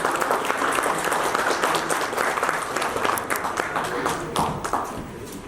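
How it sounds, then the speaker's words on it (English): A crowd at an international education talk show applauds, with a dense spatter of claps that holds steady and then fades slightly toward the end, while voices carry faintly beneath it. "Can we have a big round of applause?"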